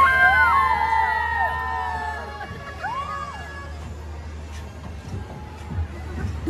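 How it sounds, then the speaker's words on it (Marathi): Busy crowd at a Raksha Bandhan fair, a general babble of voices and distant shouts with whistles or toy sounds chirping near the start, moderately loud and continuous. "खूप रक्षाबंधन आहे ना म्हणून खूप गर्दी आहे."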